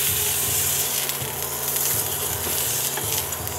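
Okonomiyaki topped with bacon strips frying on a hot pan, giving a loud, steady, close sizzle and crackle throughout, with faint scraping underneath and no voices.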